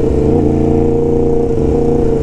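A Yamaha MT-10 motorcycle engine revs hard and steadily at close range, a dense, loud, continuous growl that holds throughout with no talk over it.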